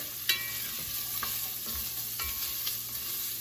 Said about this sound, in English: when you saute your vegetables before you mix it in with all the other ingredients